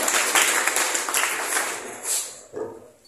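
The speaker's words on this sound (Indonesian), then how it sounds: "berikan tepuk tangan dulu untuk William Sutarto" Applause for William Sutarto of Fast Imaging at a printer ink product presentation: a steady wash of clapping from an audience that holds for a few seconds, then thins into scattered claps.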